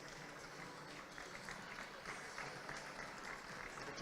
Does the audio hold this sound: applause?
yes